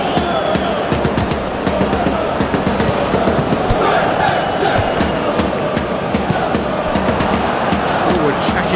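A stadium crowd at the PSG vs Manchester City FIFA Club World Cup 2025 final in the USA keeps up a steady roar throughout, with a commentator talking over it.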